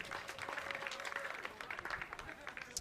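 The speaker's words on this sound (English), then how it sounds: "Give him a round of applause, everybody" Crowd at an aerobatic model-plane competition applauds a pilot from Israel, a steady spread of clapping at moderate distance lasting a few seconds, with a voice talking faintly over it.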